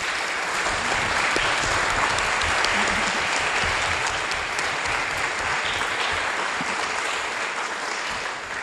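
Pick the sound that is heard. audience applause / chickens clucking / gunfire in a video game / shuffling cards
audience applause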